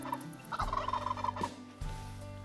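A wild turkey in Call of the Wild lets out one rattling gobble, distant and fairly faint, over a quiet outdoor background.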